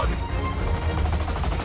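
Dense gunfire in the video game Suicide Squad: Kill the Justice League comes as a continuous, loud barrage of rapid shots with no break.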